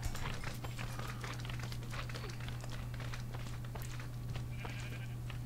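Sheep bleat in a Minecraft-style world running the Mekanism mod, repeated calls over a constant low electronic hum with scattered footstep-like clicks.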